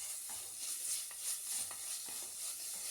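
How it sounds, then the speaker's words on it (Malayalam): Finely chopped garlic stirred and sautéed in hot oil in a pan, a steady soft sizzle with gentle scraping strokes from a spoon recurring every half second or so, close and alone. "നമുക്ക് അതിൻ്റെ പച്ചമണം പോകുന്നവരെ ഒന്ന് വഴറ്റി കൊടുക്കാം"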